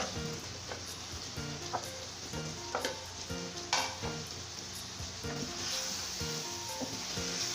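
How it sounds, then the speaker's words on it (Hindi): Pre-fried cauliflower sizzles with half-cooked potatoes in a pan, a continuous crackling fry under repeated stirring scrapes and a soft background musical tone, no talking. "अब मैं इसमें डालूंगी गोभी जो मैंने फ्राई करके रखी थी"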